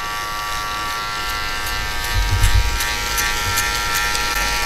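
Electric hair clippers fitted with a number one guard, lever set halfway, buzz steadily up close while blending a fade, a constant loud hum with slight shifts as the blade moves through hair.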